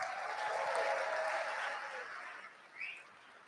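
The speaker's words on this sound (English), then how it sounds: "Give yourself a round of applause." Applause from an audience of about 1,700 people at a 2019 town hall, a dense broad wash of clapping that swells then fades over a few seconds.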